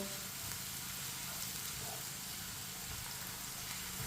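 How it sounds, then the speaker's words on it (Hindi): Onions brown in a pan over medium heat while being stirred with a spoon, making a faint, steady sizzling hiss that stays even throughout without clear separate stirring sounds. "प्याज को इसी तरह चम्मच चलाते हुए ब्राउन करना है।"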